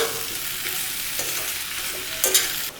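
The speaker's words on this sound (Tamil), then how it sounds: "இந்த எண்ணெயிலேயே வதக்கி விடலாம். நல்லா இந்த மசாலா எல்லாம் சேர்ந்து நல்லா வதங்கி வரட்டுங்க" Masala sautéing in oil for a drumstick and field bean tamarind curry, a loud continuous sizzle with spatula strokes scraping the pan and a sharper clatter near the end.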